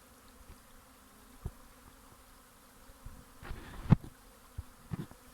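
Faint, steady buzzing of honeybees on a spring cleansing flight near and around, with occasional louder passes and soft knocks against a quiet outdoor background.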